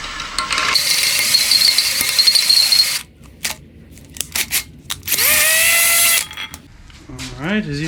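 A power drill fitted with a 1/4 inch bit bores a hole in a car, whining loudly in two bursts of a few seconds each, separated by clicks and handling noise, with the motor pitch sliding as it winds down.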